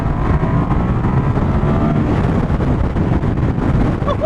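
Steady, loud wind buffeting rushes over the microphone while riding a high-mileage 2001 Suzuki SV650S motorcycle along country roads, with low engine and road rumble underneath and no talking.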